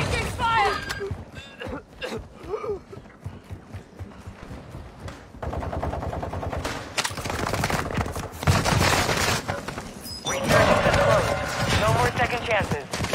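Rapid bursts of gunfire from Call of Duty on Ashika Island ring out repeatedly, with loud volleys and a sustained barrage near the end, while someone talks over the fighting.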